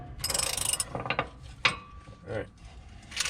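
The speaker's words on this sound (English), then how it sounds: "I ratchet it." Ratchet wrench turning a bolt on a shock absorber of a 2005 Fleetwood Bounder RV, heard as a few short bursts of clicking ratchet strokes with brief pauses between them, close and moderately quiet.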